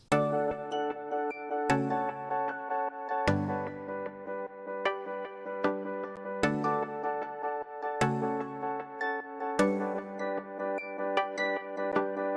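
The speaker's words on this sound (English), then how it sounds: "Altogether, the synths in the intro sound like this." Layered synthesizers play the repeating intro chord pattern of a cover song, each bright attack ringing out and fading before the next, in a steady loop with no voices.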